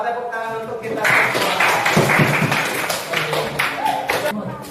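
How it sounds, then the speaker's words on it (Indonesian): A classroom group of students claps hands together for several seconds, dense overlapping claps mixed with voices and chatter. "Nah, Bapak tepuk tangan untuk kita."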